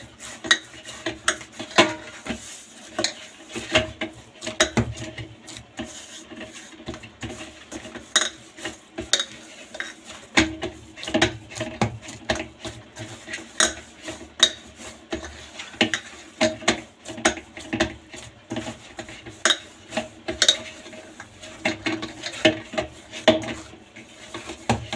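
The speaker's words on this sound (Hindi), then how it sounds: "इसको थोड़ा सा गूंदेंगे और ऐसे इसमें हम मुक्की मारेंगे।" Bathua paratha dough being kneaded and punched by hand in a bowl, giving a steady run of soft thumps, squelches and light scraping at close range, with no talking.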